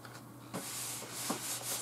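A hand smooths down a ScanNCut cutting mat with a couple of soft, close rubbing swipes, brief and fairly quiet, without talk.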